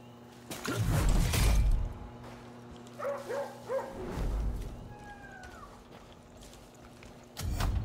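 A dog in the Far Cry New Dawn video game gives a few barks and whimpering yips over game ambience, with louder game noises before and after.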